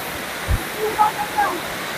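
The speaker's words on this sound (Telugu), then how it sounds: "సౌండ్ మాత్రం బేభత్వంగా వచ్చేస్తుంది, జలపాతం సౌండ్." Katiki waterfall near Araku, Vizag, roars as a broad, steady wash of falling water heard from close by, with a few faint human sounds over it.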